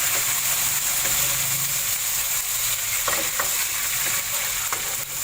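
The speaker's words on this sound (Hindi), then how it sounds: "मैंने इसमें ये साबुत गरम मसाला डाल दिया है।" Whole garam masala spices fry in hot oil in a pan for matar pulao, a loud continuous close sizzle with occasional scraping stirs and clicks against the pan.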